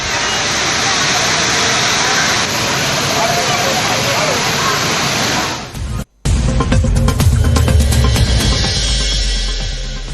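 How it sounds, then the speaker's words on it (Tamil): Thirparappu waterfall in Kanyakumari district, a loud dense roar of falling water filling the first six seconds, then a cut to another shot with rushing water, crowd noise and voices. "கன்னியாகுமரி மாவட்டம் திருப்பரப்பு அருவியில் சீரான நீர்வரத்து."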